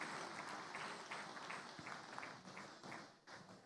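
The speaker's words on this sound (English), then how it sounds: "Please, a round of applause for a great work that they've just done." Faint, distant audience applause at a laureate award ceremony, scattered individual claps standing out within a thin, uneven patter that ebbs and swells.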